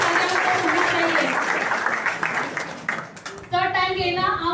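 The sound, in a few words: audience applause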